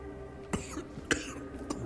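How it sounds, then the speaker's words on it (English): A character in the video game Tainted Grail coughs three times, short and faint, spaced about half a second apart, rough and throaty, over quiet background hum. "Don't cough on me, Cyrus."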